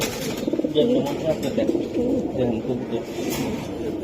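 Racing pigeons coo in low, soft, repeated rolling calls close by, overlapping one another with faint rustling around them.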